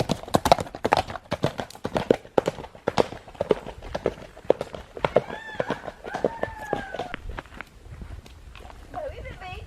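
Horse hooves clip-clop at a steady walking pace, with mares nearby, close and fairly loud under frequent talking; a short animal call briefly overlaps near the end.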